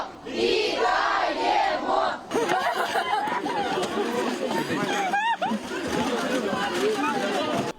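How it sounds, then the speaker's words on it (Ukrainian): Crowd gathered outside a hospital greeting freed soldiers, with excited chatter, cheering shouts and overlapping voices, loud and close throughout. "Біля лікарні, куди везуть звільнених хлопців, теж натовп зустрічаючих."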